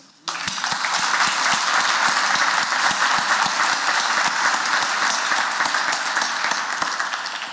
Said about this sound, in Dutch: En ik hoop op een groot applaus.